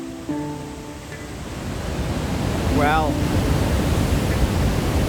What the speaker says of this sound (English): the rough sound of the water like falling down